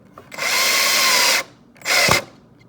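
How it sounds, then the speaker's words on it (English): Electric drill driving a screw in, heard up close as two loud whirring bursts, the first about a second long and the second shorter, with a short pause between them. "The good old drill, one of my favorite power tools."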